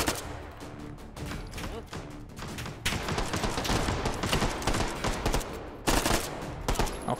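Rapid bursts of submachine gun fire in the H3VR virtual reality shooter, dense and loud, with near-continuous automatic rattling, brief pauses between volleys and the stream continuing throughout.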